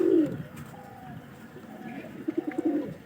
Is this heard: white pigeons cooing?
yes